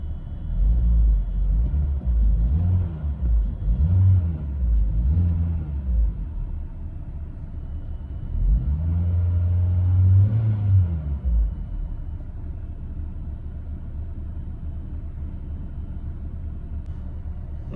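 A Peugeot 307 CC with an EW10J4 engine and an ethanol conversion box idles with a low, steady rumble, its note wavering and then settling lower as the revs drop; no talking is heard.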